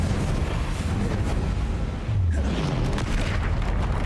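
Confringo fire spell explosion in Hogwarts Legacy, a dense continuous roaring rumble of blasts and debris with a low booming thud midway, loud and sustained throughout.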